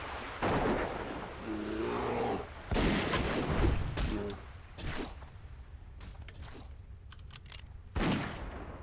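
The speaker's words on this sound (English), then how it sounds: "Can't wait to try this new gun." Gunshots from a newly acquired gun fired by a Dwarf Hunter in Classic World of Warcraft, hunting crawlers; several loud bursts of game gunfire with short gaps between them, mixed with other game effects.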